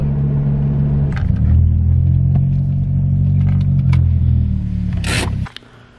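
A 400 WHP Mitsubishi Evo X engine rumbles loud and close, rising as it accelerates under light throttle with steady harmonic drone and brief intake whooshes, then cutting off abruptly near the end.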